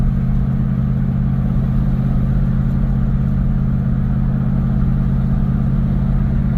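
A 1971 Dodge Polara V8 engine running on the road, a steady, smooth low rumble that holds an even drone throughout with no clear revving or talking.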